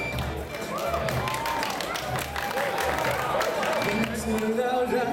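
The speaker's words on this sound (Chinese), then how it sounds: "以热烈的掌声欢迎他" An audience claps and cheers to welcome a first-year student singer at a university freshman welcome party, a busy sustained wash of applause with whoops and voices in the crowd.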